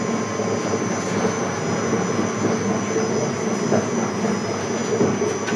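A wooden cold-press oil mill (marachekku) runs steadily, one of three belt-driven machines operating together, giving a constant dense mechanical drone with a faint whine and no speech.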